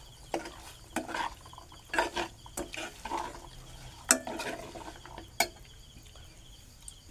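Stirring a besan and peanut vegetable mixture in a pan: irregular scraping and clacking strokes, close and fairly faint, each stir a short burst with quiet gaps between.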